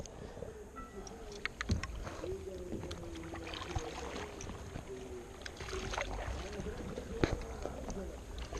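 Gentle sea water laps and sloshes around a paddle board at the seashore, a steady close wash with soft paddle splashes and occasional louder knocks throughout.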